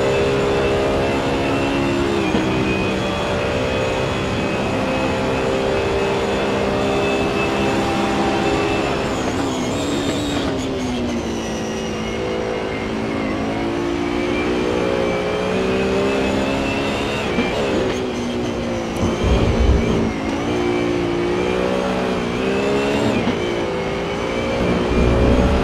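A BMW race car in a racing game laps Mugello from onboard, its engine revving high and droning through long pulls, with gear shifts and dips under braking, loud and constant throughout.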